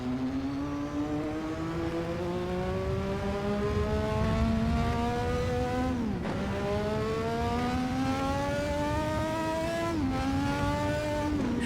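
A custom twelve-cylinder Kawasaki engine, built by joining 750 motors, runs loud and steady with a rising revving pitch, dipping briefly twice before climbing again, with no voices over it.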